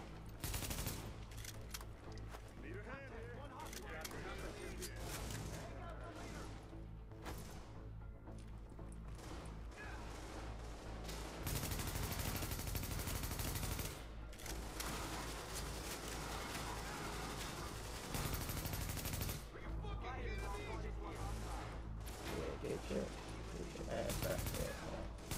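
Rapid automatic weapon fire in The Division, a third-person shooter, rattling in dense sustained bursts with brief pauses, loud and up front beneath a steady game music and effects bed.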